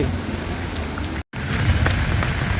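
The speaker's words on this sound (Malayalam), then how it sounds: "മഴ പെയ്യണത് നല്ല മഴയാണ്" Heavy rain pours steadily outdoors in Thiruvananthapuram, a dense continuous hiss with a brief dropout in the middle and no voices over it.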